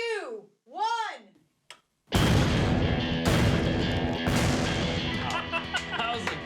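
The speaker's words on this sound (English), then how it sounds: "This is splitting the tree with dynamite, 6 sticks." Six sticks of dynamite go off to split a tree, preceded by a few sweeping tones, then a sudden huge blast that rolls into a long, loud, rumbling crash of debris.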